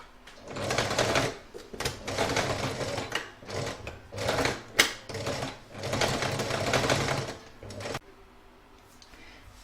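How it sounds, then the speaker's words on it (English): An embroidery machine stitches a crazy patch bag in the hoop, running in several loud bursts of rapid mechanical needle chatter separated by brief pauses, then stopping near the end and leaving near-silence. "I would stitch along here all the way along from edge to edge."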